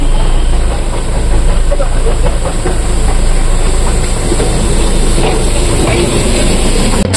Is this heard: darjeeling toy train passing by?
yes